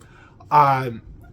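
A cat gives a single short, clear meow, close and fairly loud, in an otherwise quiet room.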